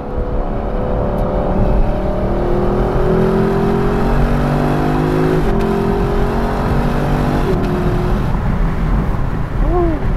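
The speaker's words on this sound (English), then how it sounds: "now the bark on downshift" Exhaust of a 2021 Lexus LC500 Convertible barks and burbles through downshifts, the engine note stepping in pitch over steady road and wind noise heard from inside the cabin.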